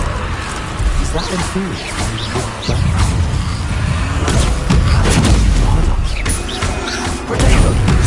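Confringo fire spell blasts in Hogwarts Legacy on PS5, several heavy booming explosions and crashing thuds landing at irregular intervals, loud and close, with a voice talking over them.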